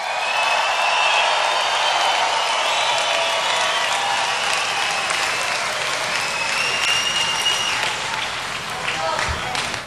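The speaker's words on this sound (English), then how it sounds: "And let's give them another big round of applause." A large crowd at a political rally in Novi, Michigan, applauds loudly and continuously for about ten seconds, with cheers and shouts mixed into the dense clapping before it fades at the very end.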